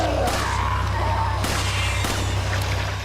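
Handgun fire in Resident Evil 4, with several sharp shots spaced through a steady, loud game background hum.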